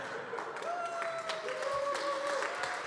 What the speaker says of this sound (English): Thank you for that rousing applause for the Pass Through the Pillars.